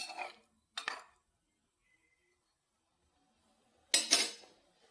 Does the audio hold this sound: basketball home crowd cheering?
no